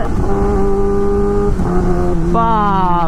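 A Suzuki GSX-R1000 sportbike fitted with a dB killer in its exhaust revs hard close by, its engine note climbing, dropping briefly at a shift, then rising again in a loud but muffled howl.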